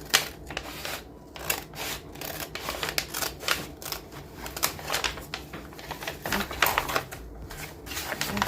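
Scissors snip quickly through a fabric placemat in a rapid, irregular run of crisp cuts, close and fairly quiet, with no talk over them.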